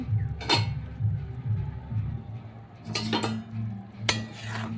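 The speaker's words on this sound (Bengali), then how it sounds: "আমার বাসন মাজাও কমপ্লিট হয়ে গেছে" Dishes and pots clatter and clink while being washed, with a series of sharp metallic knocks and scrapes close by, over a faint steady hum and occasional quiet talk.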